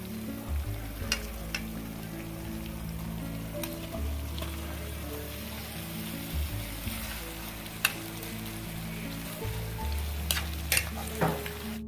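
Marinated korameenu fish pieces frying in a masala mixture in a pan, a steady close sizzle with occasional sharp pops and crackles running continuously without talk.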